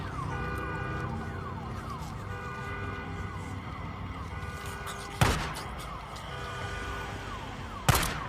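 A car alarm blares in the zombie video game Days Gone, a steady electronic wail with repeating tones, broken by two sharp loud bangs near the end.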